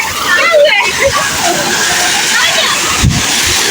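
Waterfall at Naran, Pakistan, a broad rushing wash of falling water, loud and close, with people talking over it.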